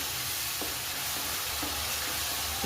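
Peas and potato curry fries in a pan over a gas stove on full flame, giving a soft, steady sizzling hiss with a few faint stirring clicks and no voices.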